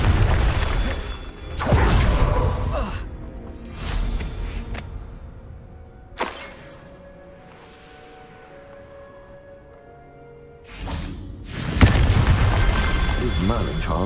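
Confringo explosive spell in Hogwarts Legacy: several heavy booms and blasts, one early, a sharp one midway and a loud burst near the end, with quieter stretches and intermittent voices.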